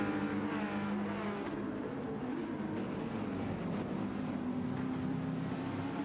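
GT3 race cars, a Mercedes and a Porsche, droning steadily on track in a racing video game, a continuous engine roar with no breaks, held at moderate level.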